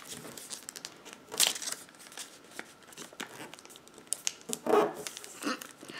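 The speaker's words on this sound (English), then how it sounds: "Now you're gonna take it and you're gonna fold it up." Origami paper being folded into a Star Destroyer model, with soft crinkling and crisp creasing bursts up close, intermittent and fairly quiet with no talk.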